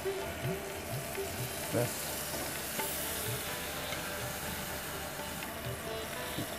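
Water added to potatoes (potol) in a hot pan, giving a faint, steady sizzle with soft bubbling and occasional stirring clinks, and a brief spoken word over it.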